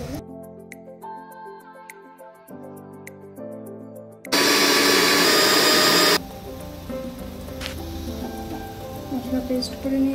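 A kitchen grinder whirs loudly for about two seconds, blending a biryani spice paste of garam masala and Shahi biryani masala, the harsh burst set between softer tonal background sounds.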